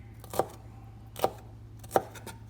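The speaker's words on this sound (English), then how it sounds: "And cut them across so that they're basically little cubes, about a quarter of an inch." Knife dicing vegetables into small quarter-inch cubes on a cutting board: three sharp, evenly spaced chops close up over a faint steady hum.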